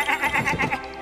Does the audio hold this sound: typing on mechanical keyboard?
no